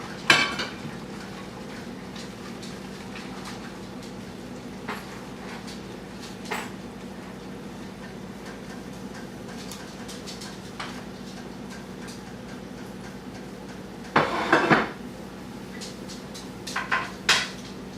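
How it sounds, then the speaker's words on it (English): Pans and utensils clatter faintly as pork chops are lifted out of a skillet in a home kitchen, with scattered light clinks and a louder burst of rattling near the end over a steady low hum. "So remove the chops from the skillet once more."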